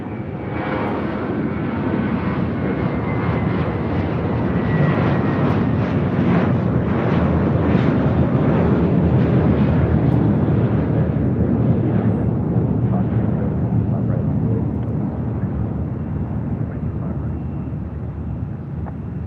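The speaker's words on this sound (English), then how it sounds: "1578 heading to Boston in an A321." An American Airlines Airbus A321 jet departs LAX for Boston. A heavy, broadband engine roar stays close and strong for nearly twenty seconds, peaking midway and easing off slightly toward the end.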